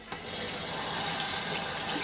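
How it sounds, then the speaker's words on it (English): Lukewarm water pours from a tap into a bathroom sink as a steady, close, even rushing stream with no talking. "I'm just going to turn the water on. I usually keep it about lukewarm water."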